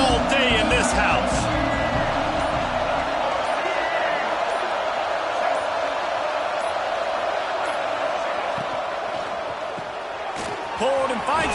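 Stadium crowd at a college football game between UCLA and Michigan State, a broad sustained roar filling the space with a few sharp bangs, heard under a commentator speaking.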